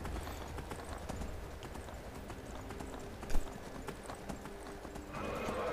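Horse hooves clip-clopping steadily in the video game Skyrim, a rhythmic close trot with a brief louder thump midway and a short whinny-like rise near the end.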